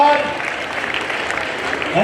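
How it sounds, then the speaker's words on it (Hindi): An audience claps steadily and continuously at an award ceremony honouring talented students, with a voice speaking over the dense applause. "तालियां रुकनी नहीं चाहिए, तालियां बजती रहनी चाहिए जब तक पारितोषिक दिया जा रहा है।"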